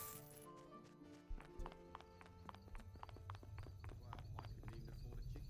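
Horse hooves clip-clop in a steady walking rhythm in a fantasy role-playing video game, close and continuous, with a voice talking over them.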